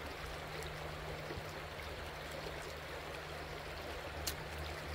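Water flowing in a small stream, a soft continuous rushing trickle at low volume with a faint low hum underneath, steady throughout and without voices.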